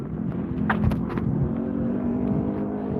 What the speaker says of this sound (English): Oh God, I'm gonna get hit by this car.